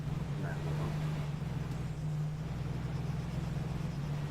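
A V8 off-road vehicle in Arma 3 climbs uphill with a steady, droning engine roar that stays constant and fairly loud throughout, with wind noise mixed in.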